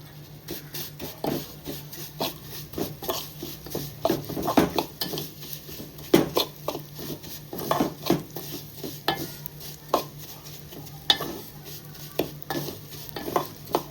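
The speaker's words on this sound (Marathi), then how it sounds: "सोबतच आपण ड्रायफ्रूट जे किसून घेतले ते पण रोस्ट करून घेऊया" Grated dry fruits roast in a pan for saffron rice kheer, stirred with a utensil that scrapes and clinks against the metal in a steady, repeated rhythm over a soft background sizzle, close and fairly loud with no voices.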